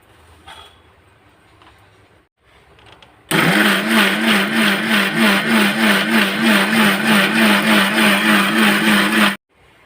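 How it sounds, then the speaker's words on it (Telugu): A kitchen mixer grinder blending chutney, starting abruptly after quiet handling noises and running loud and close with a pulsing whir for about six seconds before cutting off. "వేసేసి మిక్సీ పడదాం."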